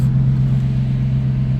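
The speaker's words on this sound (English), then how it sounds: "in a 1UZ V8. Sounds nice, huh?" A Toyota 1UZ V8 fitted in a revamped Toyota Vitz gives a deep, steady low rumble heard from inside the car, loud and even with no clear rise in revs.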